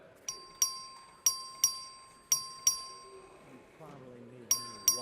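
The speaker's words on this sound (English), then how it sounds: "Clerk will ring the bell." A legislative chamber bell signalling a record vote rings in sharp, bright metallic strikes, about eight in irregular pairs, each ringing out briefly, with a low murmur of voices beneath and a short spoken phrase near the end.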